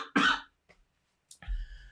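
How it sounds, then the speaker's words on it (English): A single sharp cough, loud and close, followed by a short pause and then a brief low throaty sound. "I'm going to cough."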